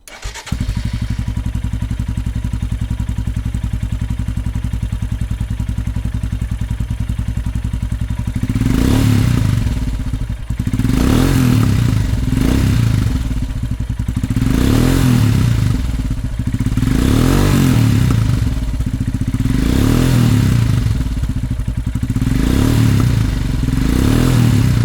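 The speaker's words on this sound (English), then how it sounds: "it is the most natural sound in open space from PoweRage exhaust" A Royal Enfield Himalayan motorcycle fitted with a PoweRage aftermarket exhaust idles and then blips its throttle outdoors, giving a loud, close, deep thumping exhaust note with repeated revs rising and falling every couple of seconds.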